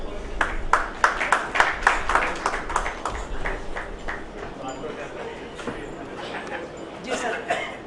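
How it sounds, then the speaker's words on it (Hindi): Loud applause for the master of ceremonies at an award presentation, a burst of rhythmic clapping from a crowd that thins out gradually, with someone speaking over the start. "और जोरदार तालियां इनके लिए।"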